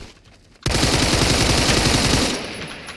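Sustained automatic gunfire in a first-person shooter video game, fired through a wall, a loud rapid burst that starts abruptly after a quiet moment and runs for about two seconds before trailing off.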